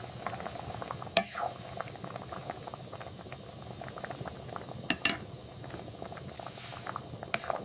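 Medicinal herbs simmer in water in a small pot, giving a quiet, continuous bubbling with scattered soft pops and a few sharper clinks.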